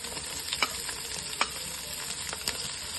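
Green chillies and onion frying in a pan for Kerala-style kozhipidi, a constant crackling sizzle punctuated by several sharp spoon clacks against the pan, with no voices.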